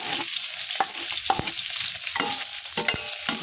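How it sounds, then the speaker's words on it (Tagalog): Prepared aromatics sauté in hot oil for sinigang, giving a loud, steady close sizzle broken by scraping stirs. "So mainit na yung ating mantika. Lagay na natin yung ating mga inahanda natin mga igisa."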